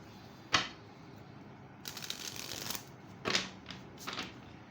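Tarot cards being shuffled up close: a quick riffle burst, then longer soft fluttering passes and a few short flicks. The sounds are quiet and there is no speech.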